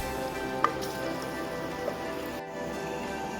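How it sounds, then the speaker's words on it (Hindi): Chopped onion frying in preheated oil, a constant close hiss of sizzling with a faint steady hum and one or two small taps. "1 अदद प्याज को हमने कट कर लिया, इसके अंदर ऐड करेंगे और इसको हम फ्राई करेंगे।"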